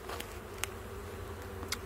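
Honeybees buzz in a steady, close drone while a hive is opened for inspection, with a few faint clicks and knocks of handling.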